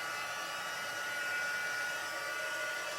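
A heat tool blasts a steady, loud whirring stream of hot air over a tea-stained handmade card, running unbroken with no pauses and no voices.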